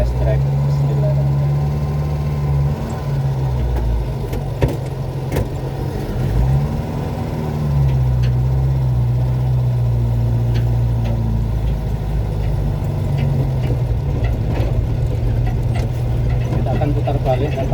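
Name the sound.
car engine during a test drive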